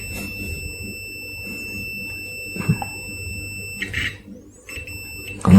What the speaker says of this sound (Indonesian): nanti akan menunjukkan angka resistensinya dan menimbulkan bunyi buzzernya